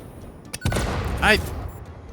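Explosions in the factory-building video game Satisfactory, set near a train line by grass fields: a sharp crack followed by a loud booming burst and a second rumbling blast, close and fairly full.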